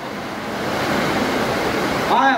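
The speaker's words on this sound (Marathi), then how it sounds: "सर बघा कसला पाऊस पडायला." Dense, steady hiss of heavy rain pours without pause, with a brief tonal sound breaking through near the end.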